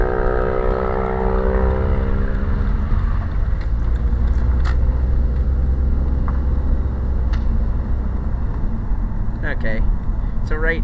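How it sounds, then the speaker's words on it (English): Dirt bike riding nearby, a steady engine drone with a rising rev at the start, heard under someone talking outdoors throughout. "And there's a dirt bike going on, apparently."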